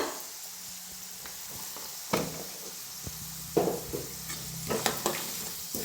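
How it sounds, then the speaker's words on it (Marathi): Masala spices roasting in a hot pan for a Kolhapuri snack, with a steady low sizzle, a few sharp scraping stirs and clinks, fairly close and with no talking. "इकडे मसाला भी आपला छान भाजायला लागलेला आहे"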